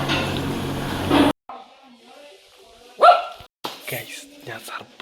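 A dog barks near a house, a loud burst at the start and another short bark a couple of seconds later, with people talking between and around the barks.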